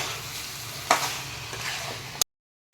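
Young jackfruit fries and is stirred in a pan, a low steady sizzle broken by a few clattering spoon-against-pan scrapes before it cuts off abruptly.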